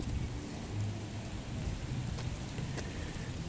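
Steady, dense rainfall pours outdoors in a heavy, continuous hiss, with faint low rumbles beneath and no voices.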